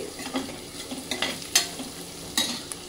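Onions frying in a pan while being stirred, with a soft steady sizzle broken by scraping spatula strokes and a few brighter clinks, close and alone without any talk.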